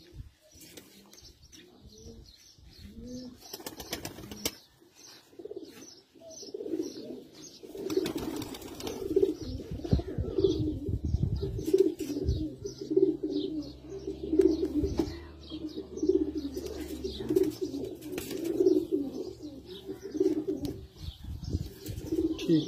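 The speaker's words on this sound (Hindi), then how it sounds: "ये थे उस्ताद रफीउल्लाह खान ईसा खान के मेन ब्रीडर कबूतर" Teddy flying breeder pigeons coo in a steady, rhythmic series of low throaty calls, close by, with wing flutters, chirps and a voice talking early on.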